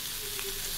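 Chicken pieces seasoned with salt, tomato sauce and chicken curry masala fry in a pan, giving a brief, steady broadband sizzle with a faint tonal hum underneath and no talk.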